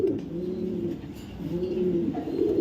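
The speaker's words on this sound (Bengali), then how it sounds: "একটা নর কবুতর একদম হান ওরিজিনিয়াল সুপার মিলি ব্লাড লাইনের ওভার লাইট কালারের একটা কবুতর" Low, throaty coos from a male racing pigeon roll on continuously in overlapping phrases, close and steady, with no talking.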